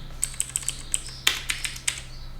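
Light, sparse taps on a computer keyboard, about a dozen separate keystrokes at an uneven pace, near and fairly faint, against a low steady hum.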